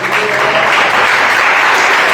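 A church congregation claps steadily and loudly throughout, a dense, continuous wash of applause with no pauses.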